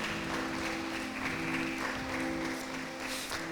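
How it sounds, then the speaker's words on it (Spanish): Church congregation applauding the Lord during a Sunday service, a steady dense wash of clapping with a sustained tonal hum beneath, no voices standing out. "¿Por qué no le das un fuerte aplauso al Señor?"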